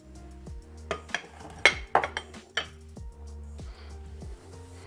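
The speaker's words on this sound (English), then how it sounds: "Stir it up." Avocado salsa with lime juice stirred in a bowl, a spoon clinking and scraping against the dish in several sharp knocks, close and fairly quiet, with no talk.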